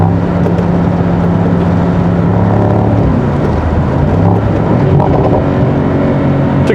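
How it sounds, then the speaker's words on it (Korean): A 2024 Mercedes-AMG SL 63 4MATIC's engine and exhaust during a quick downshift, giving a loud, continuous close roar whose pitch dips and swells as the revs change. "이 차는 다운시프트 할 때 그 반응이 진짜 빠릅니다."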